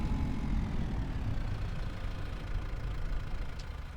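Tractor engine idling in Farming Simulator 25, a steady low rumble holding at an even level for the whole stretch with no talk over it.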